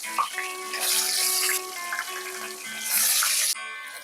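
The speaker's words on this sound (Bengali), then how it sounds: "তেলটা গরম হয়ে গেছে। এবারে একে একে মাছগুলোকে ভেজে নেব।" Koi fish frying in hot mustard oil: a loud, steady sizzling hiss that swells in bursts and runs continuously through the whole stretch, with no talking.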